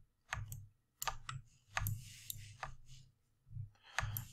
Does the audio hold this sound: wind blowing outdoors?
no